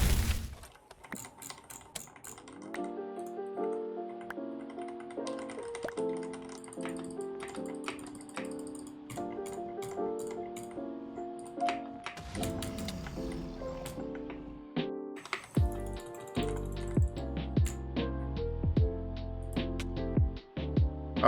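Typing on a Ducky One 3 Fuji keyboard with Cherry MX Brown switches, crisp close keystrokes over a musical background.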